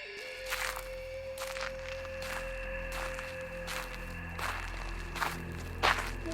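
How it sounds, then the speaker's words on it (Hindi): Someone approaches inside a deserted, eerie house with slow, evenly spaced footsteps, about eight soft thuds over a low, sustained droning tone. "तभी मुझे किसी के आने की आहट सुनाई दी"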